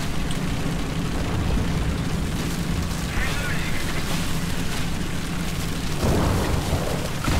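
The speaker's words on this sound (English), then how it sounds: "That is a big gun, that is a T-10M." A T-10M tank fires its big gun in a World War tank video game, a loud deep boom followed by a rumbling tail, with a dense steady roar of battle underneath throughout.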